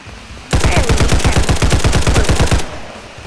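Rapid automatic gunfire in the Roblox shooter Hypershot during a capture-the-flag match, a loud, even burst of about twenty shots lasting two seconds, close and alone after a quiet start.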